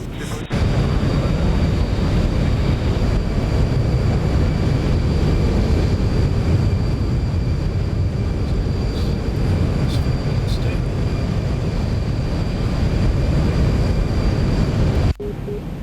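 An airplane engine roars loud and steady at takeoff in a flight simulator game, a dense broadband rumble that holds for the whole stretch before cutting off abruptly near the end.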